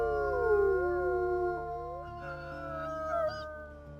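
A wolf howls in the video game WolfQuest: one long, wavering howl fills the opening two seconds. Softer overlapping howls follow, set over a steady low in-game background drone with no talking.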